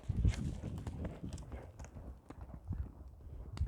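A five-year-old horse offered for sale trots along, its hooves clip-clopping in a quick, uneven series of thuds at moderate distance, with faint background noise and no clear talk.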